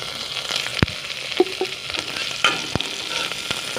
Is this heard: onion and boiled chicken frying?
yes